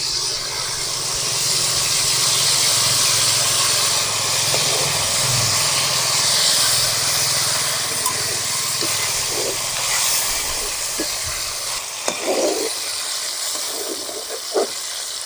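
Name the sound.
tamarind water cooking in oil for drumstick pickle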